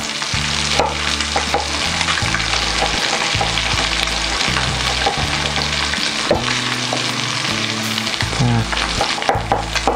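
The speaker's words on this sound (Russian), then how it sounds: "Положили и не трогаем, пусть обжаривается." Salmon fillet frying in a skillet, a loud steady sizzle with crackling pops throughout and occasional soft knocks of utensils, no voices.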